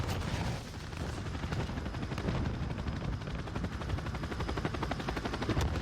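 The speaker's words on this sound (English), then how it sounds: "we're still going to pick up probably 10 kills with this chopper gunner." Chopper gunner helicopter in the video game Modern Warfare, its rotor drone mixed with rapid, sustained bursts of gunfire and explosions, loud and continuous with no talk.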